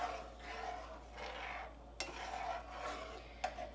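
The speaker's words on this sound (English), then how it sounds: "we'll scrape and stir and deglaze the bottom of that pan" A utensil scrapes and stirs across the bottom of a hot pan as liquid deglazes it for bacon chutney, soft repeated rasping strokes with two sharp metallic clinks, quiet and close.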